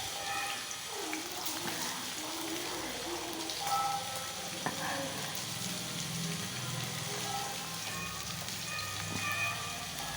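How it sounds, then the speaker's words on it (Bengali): Onions fry in hot oil in a home kitchen, making a steady, dense sizzle that crackles close by for several seconds with occasional utensil taps. "দেখো, পেঁয়াজটাকে খুব সুন্দরভাবে তেলের মধ্যে আমি ভেজে নিচ্ছি।"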